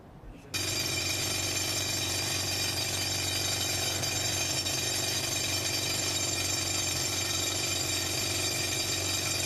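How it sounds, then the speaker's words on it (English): A rock drill boring slowly through hard rock kicks in after a brief quiet start and grinds on with a loud, steady mechanical roar, continuous, close and harsh, with no voices. "The drill makes frustratingly slow progress through the hard rock."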